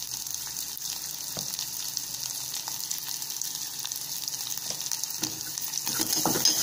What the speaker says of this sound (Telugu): ఈ ఉల్లిపాయలు పచ్చిమిర్చి బాగా ఫ్రై అవ్వాలి